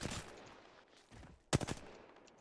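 Video game gunfire in short bursts: a rattle at the start, quieter shots in the middle, then a sharp, louder volley near the end, all fairly faint overall with no talking.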